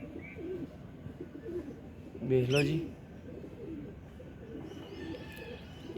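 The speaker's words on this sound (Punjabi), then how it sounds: "ਤੇ ਲੋ ਜੀ ਇਹ ਵੇਖ ਲਓ ਕਬੂਤਰ" Pigeons on a rooftop loft during a pigeon-flying tournament give a brief burst of soft, rolling coos partway through, heard near and clear over steady background noise while someone talks.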